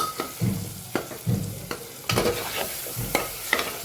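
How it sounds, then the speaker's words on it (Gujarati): Potatoes stirred into a sizzling frying-pan mixture, with a spoon scraping in irregular strokes roughly every half second over a steady low fry, fairly close. "સરસ મિક્સ કરી લઈએ."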